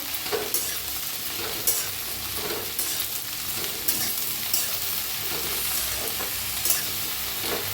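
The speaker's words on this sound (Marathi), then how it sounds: "असं सारखं हलवत ना भेंडी भाजून घ्यायची नाहीतर खाली करपू शकते" Okra for garlic bhindi is pan-roasted and stirred continuously, producing a constant close sizzle with regular scraping spatula strokes against the pan. No voices are present.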